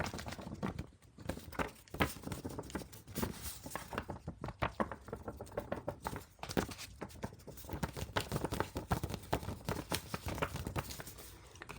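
Paper being crumpled and crinkled nearby, a steady dry rustling with frequent soft crackles throughout, no talking.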